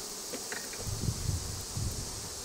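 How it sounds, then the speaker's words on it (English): A large honeybee swarm in a bait hive gives off a soft, steady buzz with low rumbling bursts from the bees close by, and no one speaks. "This is a pretty daggone big swarm."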